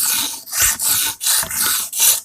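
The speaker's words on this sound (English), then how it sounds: "I am using the 120 stone here." An Emerson karambit tanto knife with a chisel grind being sharpened on a 120 grit stone, close rhythmic rasping strokes, about five long scrapes back and forth.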